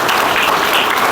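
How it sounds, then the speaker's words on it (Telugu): A church congregation at a Friday fasting prayer service claps loudly and steadily. The dense, continuous applause fills the whole moment with no voice over it. "ఇంకా గట్టిగా చప్పట్లు కొట్టండి."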